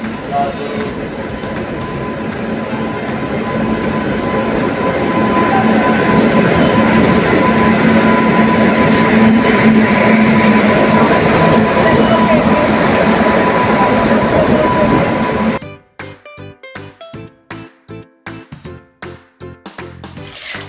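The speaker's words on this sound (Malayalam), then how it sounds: "ഒത്തിരി ട്രെയിനുകൾ വന്നും പോയും ഇരിക്കുവാണ്" A loud, close train roars past on the tracks for a long stretch, then gives way to a rhythmic clatter of wheels over the rail joints.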